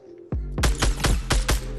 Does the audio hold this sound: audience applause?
no